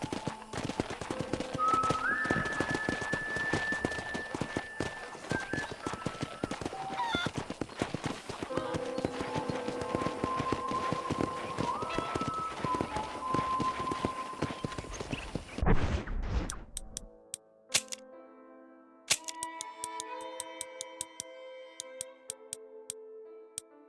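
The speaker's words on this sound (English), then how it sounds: "I picked out a fine horse for you." A horse's hooves clip-clop steadily at a walking pace in the Red Dead Redemption video game, close and even, with ambient ranch sounds and game music behind; the hoofbeats fade after about sixteen seconds, leaving sparse musical notes.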